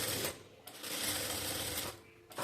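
A sewing machine stitching along a halter neckline on a blouse, its needle whirring in steady rapid bursts that start and stop, close by and fairly quiet.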